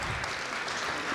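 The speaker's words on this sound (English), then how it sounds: "A round of applause." Audience applause at a live citizens' assembly, a steady wash of many hands clapping at close range, brief and unbroken, with no voices on top.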